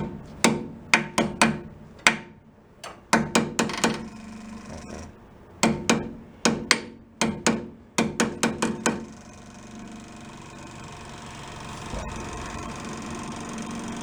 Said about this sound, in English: give her a smack with a hammer